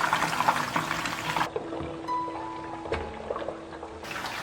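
Chicken legs deep-frying in oil in a home kitchen, giving a continuous bubbling, crackling sizzle that swells and eases in loudness, with no voices over it.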